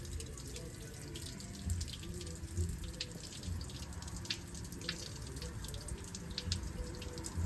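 Water from a hose flushes through the chassis rails of an N80 Toyota Hilux, dribbling and splashing out in a continuous trickle with scattered drips, close by and steady, with no talk.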